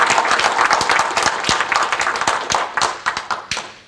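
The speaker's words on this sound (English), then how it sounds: "Please give him a kindly applause." Audience at a DroidKaigi 2018 tech conference talk applauding, a dense, close burst of many hands clapping that thins into scattered separate claps and fades out over about four seconds.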